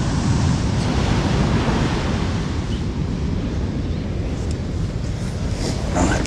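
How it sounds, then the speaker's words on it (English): Wild sea waves crash and roar continuously at a harbour in stormy weather, with strong wind buffeting the microphone and sea spray in the air; a dense, loud, unbroken rush with no voices. "See how wild these waves are."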